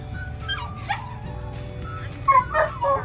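A puppy whimpers and yips in short high-pitched squeaks, with a few soft cries early and a cluster of louder yips near the end, over a low steady background hum.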